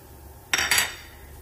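A utensil scrapes and clanks against a metal pot while toasting fideo noodles and onion are stirred, giving two quick bright clattering bursts in a quiet kitchen, with no talking.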